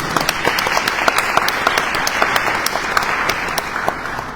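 An audience at a poetry and technology panel discussion applauds for a teacher, with sustained, fairly close clapping and distinct individual sharp claps standing out from the crowd.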